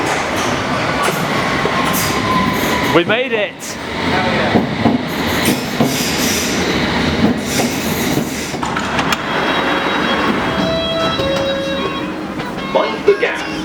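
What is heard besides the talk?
Metropolitan line train arriving at the station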